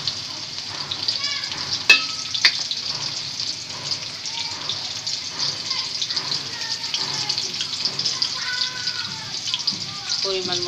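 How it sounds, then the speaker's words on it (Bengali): Onions fry in a pan for a bitter gourd dish, a steady moderate sizzle with occasional stirring scrapes. A voice talks over parts of it. "পেঁয়াজ দিয়ে দিচ্ছি"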